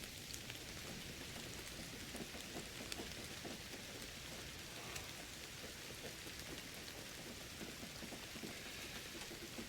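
Steady, dense rain falls in a jungle setting in the Indiana Jones and the Great Circle video game, a constant hiss of raindrops on surfaces with no voices over it.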